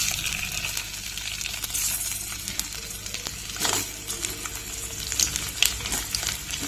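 Okra pieces dropped into a hot pan and frying, a steady close sizzle with scattered louder crackles and spatters throughout, no voices.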